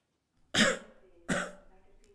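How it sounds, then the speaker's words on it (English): Two sharp coughs, about a second apart, close and clear in an otherwise quiet room. "Now stand up straight, turn your head, and cough."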